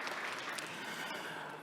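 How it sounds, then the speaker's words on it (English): Brief, fairly faint applause from an audience at an economics panel event, a short steady wash of clapping lasting under two seconds. "a big round of applause for you as well"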